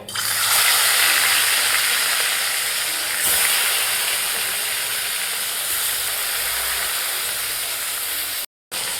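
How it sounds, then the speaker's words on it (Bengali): Koi fish sizzling as they are slid into hot mustard oil, a loud, steady broadband hiss and crackle of frying that fills the whole span and holds nearly constant, broken only by a brief dropout near the end. "এবার আমি আস্তে আস্তে মাছগুলো ছেড়ে দেব।"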